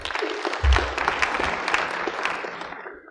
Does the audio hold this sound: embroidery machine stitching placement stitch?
no